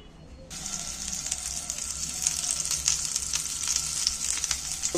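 Potato pieces frying in a spoonful of oil in a pan, a steady bright hiss with small crackles that swells a little after a brief quiet start, close and uninterrupted by talk.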